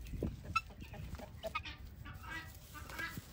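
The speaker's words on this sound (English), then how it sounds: "What do you think of those crazy roosters?" Chickens and roosters on a farm cluck and squawk at a distance, a faint, busy flock chatter with scattered sharp calls and no clear crow.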